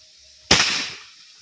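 A single sharp shot from a Gamma Sporty air rifle, loud and close, with a sudden crack that tails off over about half a second against a quiet background.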